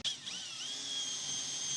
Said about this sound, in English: If you want a rivet gun that can actually turn like this, it's a Blue Point rivet gun.